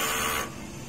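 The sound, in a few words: DTF printer head cleaning cycle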